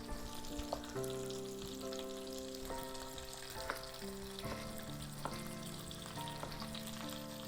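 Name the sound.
potato and spices sizzling in a stir-fry pan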